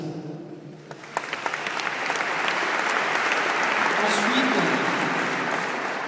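Audience applause swells through a hall at a wine-tasting event, starting moderate and building to a sustained, dense clatter of many hands clapping.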